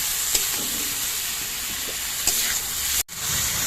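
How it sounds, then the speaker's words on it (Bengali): Salted onions fry in a pan with a bright, constant sizzle close by, broken by a few soft scrapes of stirring and a brief dropout before the hiss resumes. "পেঁয়াজগুলো ভাজার সময় নুন দিয়ে দেওয়া হলো"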